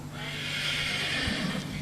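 A horse, a gelding sired by an imported Australian stallion, lets out a loud, close neigh lasting about a second and a half, over steady outdoor background noise with no talking.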